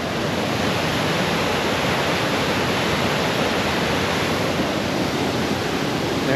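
Continuous rushing water, a dense steady wash of sound from a creek flowing nearby in the Smoky Mountains, with no voices.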